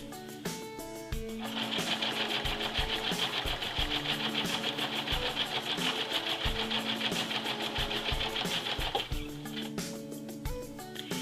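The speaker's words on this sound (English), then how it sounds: "when you have all this down on the machine to sew the lining, you may as well reinforce the seams." A sewing machine stitches and reinforces coat lining seams, a rapid rhythmic mechanical chatter that starts, runs steadily for about eight seconds, then slows and stops with a few separate clicks.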